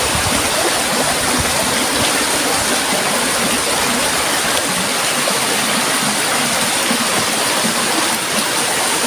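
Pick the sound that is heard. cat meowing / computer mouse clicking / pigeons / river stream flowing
river stream flowing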